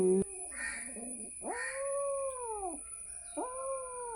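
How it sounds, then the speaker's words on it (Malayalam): Fighting cats yowl in long, rising and falling wails, two drawn-out caterwauls with a harsher burst before them, fairly close and clear. "ഇതാണ് പൂച്ചയുദ്ധം"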